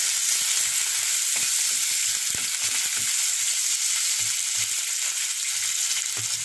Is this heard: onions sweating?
yes